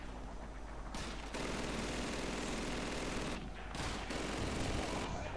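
Machine gun fire in the World War II shooter Call of Duty 2, sustained bursts of rapid shots with two brief pauses, loud and close, with no talk over it.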